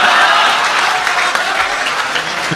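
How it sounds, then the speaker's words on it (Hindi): Loud, dense applause from an audience at a comedy poetry recital, strong at the start and easing slightly toward the end, the clapping filling the room with no talk on top. "जोरदार तालियां एक बार"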